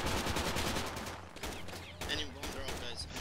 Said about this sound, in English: They're shooting out of the windows!